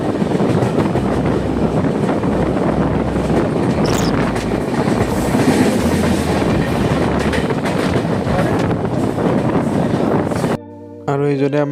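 The Northeast Express passenger train rolls steadily on its rails from Rangiya toward Agra, a continuous loud rumble and rattle heard from inside a sleeper coach, with faint voices underneath and a brief dropout near the end.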